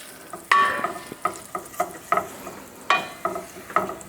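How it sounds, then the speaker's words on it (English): Black pepper cooking in hot olive oil in a pan for vegan cacio e pepe gives a soft steady sizzle, broken by repeated close clinks and scrapes of stirring at an uneven rhythm, with no talking. "we're going to cook that black pepper for a minute, just to sort of release the aroma"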